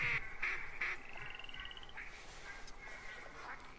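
Ducks quack several times in quick succession as a small flock of about four flies in toward a blind in theHunter 2017, the calls fairly close at first and then thinning out over soft outdoor ambience.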